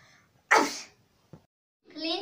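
One loud, close sneeze bursts out sharply, followed by a brief small sound and then a short spoken voice, likely a child's.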